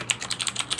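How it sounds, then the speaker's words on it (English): Loud typing on a computer keyboard, a quick uneven run of sharp key clicks, close up with no speech. "Somebody is typing quite loud."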